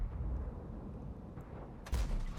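A tank cannon fires in a tank video game, aimed at a T-34 in a desert city map, as a single sharp report near the end of a low rumbling engine drone.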